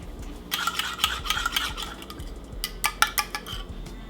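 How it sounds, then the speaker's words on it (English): Eggs being whisked in a bowl as binder for a venison burger, two quick bursts of rapid rhythmic clinking from a utensil against the bowl, close and fairly loud, separated by a brief pause. "But I'm going to take this, whisk it up."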